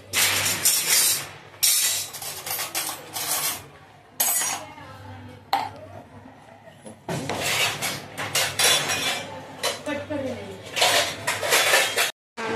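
A metal spoon scrapes and clinks against a pot while ingredients melt for Diwali snacks, a loud, busy clatter of stirring with someone talking over it.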